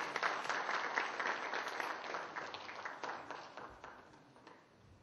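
Sustained applause from an audience at a Korean traditional pop music awards ceremony, a dense wash of many hands clapping that gradually fades toward the end.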